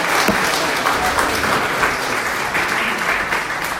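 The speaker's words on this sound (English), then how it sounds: "can we give Charles and Amy a round of applause for the meal and the hosting?" A room full of guests at an annual meeting applauds warmly, with thick, even clapping sustained throughout at close range and no voices over it.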